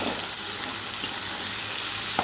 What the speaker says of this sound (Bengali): সুন্দর করে ফ্রাই করে নেব